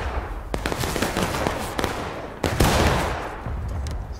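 Musket volleys ring out in the Civil War battle game War of Rights: scattered crackling shots build into a loud, dense volley around the middle, with further rippling reports trailing off. No speech is heard.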